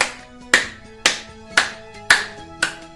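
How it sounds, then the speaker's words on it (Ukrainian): Hands clap in a steady beat, roughly two claps per second, over soft tonal music during a children's music class. "І ми будемо з вами плескати у долоньки"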